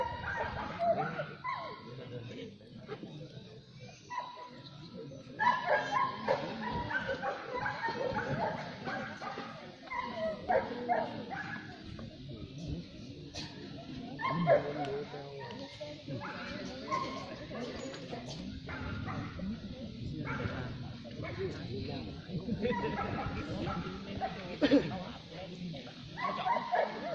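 Guard dog performing, giving yips, whimpers and barks at close range across a long stretch, mixed with heavy talking and background noise.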